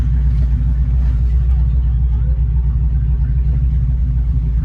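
Mercedes 300SEL 6.3 with no exhaust fitted, rolling under its own power with a loud, deep, steady engine rumble throughout, a voice speaking briefly over it.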